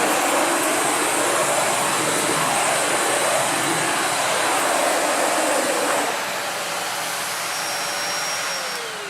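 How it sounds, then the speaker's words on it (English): A Sebo Felix upright vacuum cleaner runs on a bare floor with a loud, steady motor whine and airflow roar, easing slightly softer partway through. "now I'm going to vacuum up all this dirt on the floor and the carpeting"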